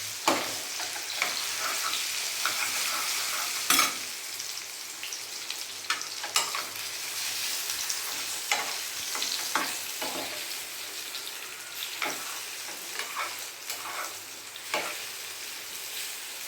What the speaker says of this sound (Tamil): இந்த வாழைப்பழம் நெய்யில் போட்டுக்கலாங்க